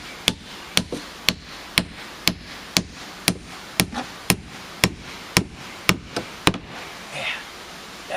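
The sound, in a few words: hammering nails into wood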